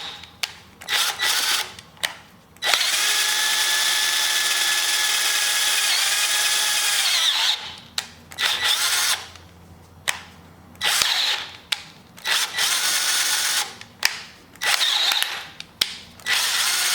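A power drill bores a hole in an engine part for a budget boosted engine build. The loud, close whine comes in short bursts around one long steady run, separated by brief quiet stops.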